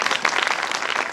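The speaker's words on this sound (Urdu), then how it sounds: "ہمارے پاکستان آرمی کے لیے زوردار تالیاں بجائیں" An audience applauds for the Pakistan Army during a church sermon, with loud, dense clapping that stays steady throughout.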